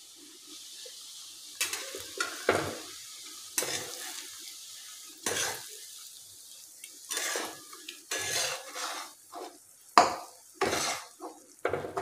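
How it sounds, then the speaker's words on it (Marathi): Semolina (rava) stirred into melted ghee in a pan makes a soft sizzle under repeated rhythmic spoon scrapes and knocks against the metal, close and fairly quiet, with no talking. "यात आता आपण मोजलेला रवा घालूया।"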